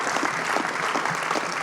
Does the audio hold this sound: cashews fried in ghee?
no